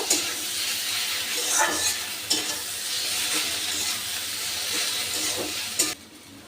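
Water lily stems being stirred with mustard paste in a pan, a steady close scraping and swishing over a continuous sizzle, with a few sharper utensil knocks along the way.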